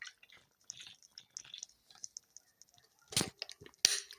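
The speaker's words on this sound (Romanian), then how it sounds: "Îmi beau apă rece," Drinking cold water: two loud gulping, splashing bursts near the end, after a stretch of faint clicks and small mouth sounds, close and otherwise quiet.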